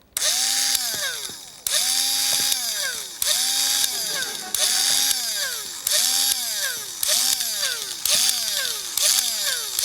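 A carpenter's power drill bores small holes in repeated bursts. Each bursts whines up in pitch and then drops as the bit bites in and cuts through, loud and close with no speech.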